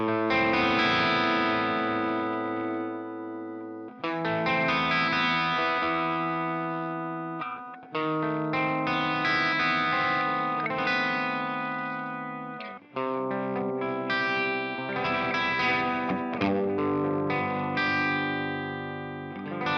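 A Gibson Les Paul Classic High Performance electric guitar plays through its coil-split bridge pickup with distortion and effects, dense chords and riffs in several phrases with brief pauses, loud and steady, no talking.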